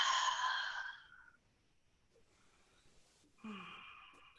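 A breathy exhale during a yoga forward fold, close and clear at the start, then quiet movement and another soft breath near the end, with no talk.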